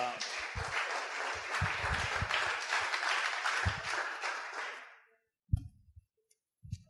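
A crowd claps steadily for about five seconds, then the applause stops abruptly, leaving a few low thumps and a voice.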